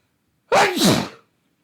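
A single sharp sneeze from a person, close and loud, lasting under a second, with silence before and after.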